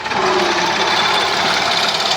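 A tractor engine runs loud and steady on a bad, rough road, a continuous rattling mechanical chug with no pauses.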